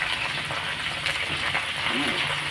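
Water poured into hot ghee with spices in a cooking pan, giving a loud, steady hiss and sizzle that runs through the whole short moment, close up.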